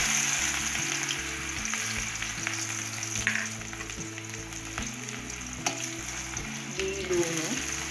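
Steady sizzling and crackling of food frying in hot oil, with occasional stirring clatter, continuous and fairly close throughout.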